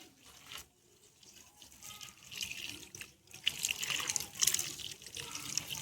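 Water running from a tap to fill a container for watering pineapple plants on a terrace garden, a soft gurgling stream that swells and brightens toward the end, fairly quiet and close.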